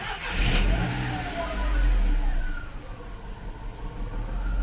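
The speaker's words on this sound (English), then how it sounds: "So I'll start the engine." A VW Polo 9N car engine starts and settles into a steady idle with a low continuous rumble. The sound is close and even, with no talking.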